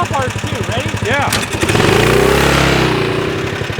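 A 420cc golf cart engine with no muffler idles with a loud, rapid putter, then revs hard into a rising, roaring acceleration close to the microphone.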